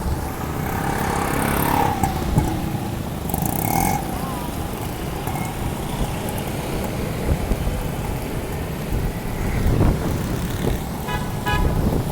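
Cars crawl along a flooded road in Karachi with a constant rumble of traffic and engines, and scattered horn toots break through at a moderate distance.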